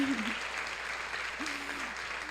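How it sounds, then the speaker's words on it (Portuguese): Sustained applause from a live audience at a Casa Tpm 2018 interview event, steady and fairly close, with a voice briefly rising over the clapping. "Então vamos bater palmas mais uma vez para Ionara Rabelo."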